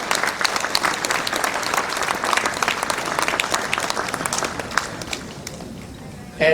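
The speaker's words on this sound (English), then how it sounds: "please give a round of applause for CS2 Jaime Molinar, who rendered the rendition of Chant." An audience at a Vietnamese-American veterans' gala applauds a performer after a chant, with steady clapping and a few louder individual claps that taper off near the end.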